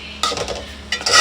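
A spoon scrapes and clinks against a pot while mango pickle is stirred after vinegar is poured in, with short bursts of metallic scraping and wet mixing, close and fairly loud.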